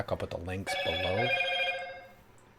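A mobile phone ringing with a bright, sustained electronic tone that rings out and slowly fades, beginning just after someone speaks briefly and lasting alone to the end.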